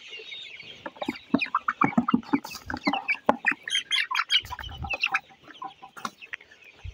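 Hens clucking and squawking nearby in bursts on a poultry farm of 29-day-old colour bird chickens, with scattered chirps and flapping, no talking.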